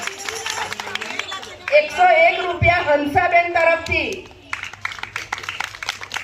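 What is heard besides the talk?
audience clapping hands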